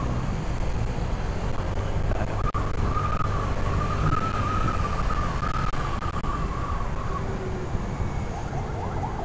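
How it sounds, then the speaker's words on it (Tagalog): Steady, loud wind rush from riding a motorcycle with the visor open along a highway toward Taguig, broadband and continuous throughout, with a faint engine or traffic tone rising and falling underneath. "Naka-open visor tayo mga kasipag, kaya maririnig nyo po yung hangin, yung mga bawat paligid natin."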